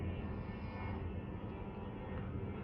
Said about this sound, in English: Sorry for the airplane noise.